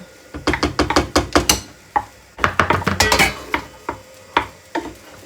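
Sticky rice being scraped and shifted into a large kawali, with bursts of metal spoon scraping and clanking against the pan in quick clustered strokes, close and fairly loud, pausing between rounds.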